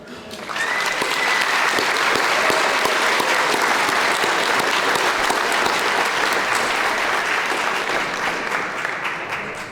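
An audience at a sports hall of fame induction ceremony gives sustained, loud applause. The clapping swells quickly and holds steady for nearly ten seconds, with a little crowd murmur underneath.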